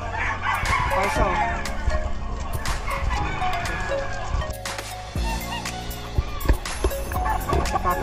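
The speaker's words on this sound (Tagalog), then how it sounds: "magandang manok." Roosters crow repeatedly at a busy pet market in Malabon, with drawn-out calls rising over clucking birds and a murmuring crowd, and people talking nearby.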